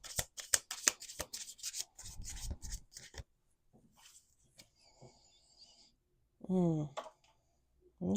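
Rapid riffling and snapping of a card deck being shuffled, a burst of quick flutters followed by softer shuffling, with brief talk near the end.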